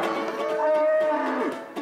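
A cow at the Durham Agricultural Fair lets out one long, loud, close moo that fills the short moment on its own.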